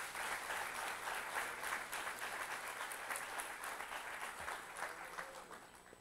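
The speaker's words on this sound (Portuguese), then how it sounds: "Um aplauso a Jesus Cristo" Sustained applause from a church congregation fills the space for several seconds, steady dense clapping that tapers slightly toward the end.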